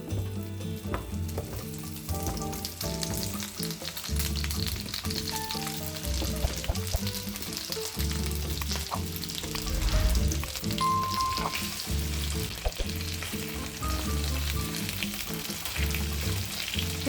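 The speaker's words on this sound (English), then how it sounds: "Fry the potato wedges." Potato wedges fry and sizzle in a pan, a steady close crackle with occasional stirring clatter, running unbroken throughout and alone with no voices.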